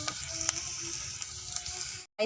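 Sliced onions and fenugreek seeds sauté in a pan with a soft, steady sizzle and a few faint stirring ticks, heard up close and quiet before a brief cut to silence.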